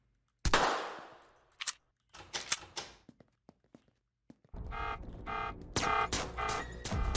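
Video game gunfire during a police and SWAT standoff: a sharp loud shot with a ringing tail, scattered single shots and clicks, then sustained rapid automatic bursts.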